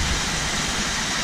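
Floodwater rushes loudly through a creek after a typhoon, a dense, unbroken roar of churning water close by with no other sounds.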